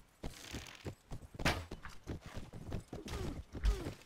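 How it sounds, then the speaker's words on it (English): Horses galloping in the medieval battle game Mount & Blade: Warband, irregular hoof clops and thuds over clanking battle noise, fairly close and loud, no talk heard. "Oh no, they got horses."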